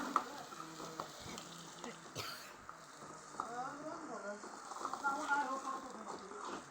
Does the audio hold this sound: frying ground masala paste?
yes